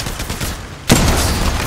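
Gunfire in Apex Legends Mobile: a sudden loud burst of shooting cuts in after a quieter stretch of muffled battle noise and keeps going as a dense, sustained volley, close and harsh.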